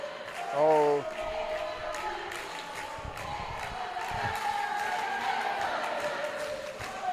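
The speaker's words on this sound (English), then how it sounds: "A lot of cheering now." Crowd cheering at a European water polo championship match between Spain and Switzerland, a steady broad wash of voices filling the venue after a brief loud shout near the start.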